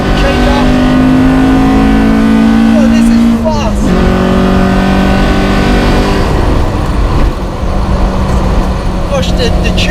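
A track-prepared Honda Civic EK4 with a B18C6 engine on individual throttle bodies screams up through the revs, drops sharply on an upshift, then climbs again, loud and close, with a voice talking over it.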